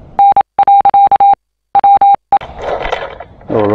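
Metal detector signal tones during detecting on a farm: repeated short, loud, pure beeps in quick bursts, then a pause and another burst, followed by rustling and handling noise close by.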